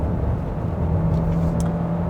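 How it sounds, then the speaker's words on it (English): A 2021 Kia Sorento Hybrid with a 1.6-litre turbo engine and electric motor accelerates at full throttle in sport mode, a steady, loud, low engine hum inside the cabin, without talk. "This is a full throttle."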